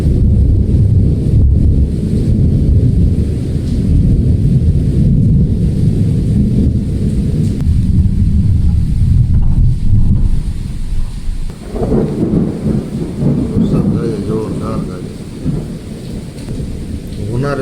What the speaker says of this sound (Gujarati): વરસાદ ગાજે જોરદારનો